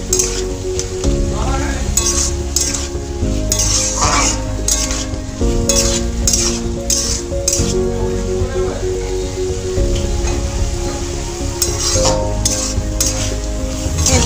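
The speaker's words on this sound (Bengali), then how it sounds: "আবার একটু নাড়াচাড়া করে নিচ্ছি।" Bottle gourd frying in a pan is stirred repeatedly, a continuous sizzle cut by rhythmic scrapes and clinks of a utensil against the metal pan, loud and close, with some talking mixed in.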